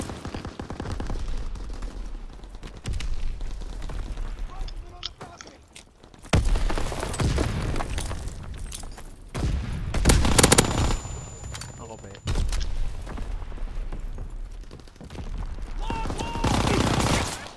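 Machine gun fire in Call of Duty: WWII, loud sustained bursts of rapid automatic shots in several separate volleys, with booms and game voices mixed in and a player talking over parts of it.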